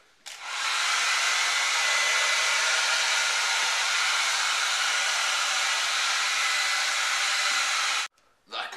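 A hair dryer switches on and blows at a steady high whir for about eight seconds, loud and close, then cuts off abruptly.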